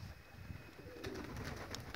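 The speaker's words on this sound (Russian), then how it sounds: "голуби что-то там вот с крыши начали срываться" Pigeons on a rooftop, with soft wingbeats and faint cooing and rustling at a middle distance, over steady outdoor background noise.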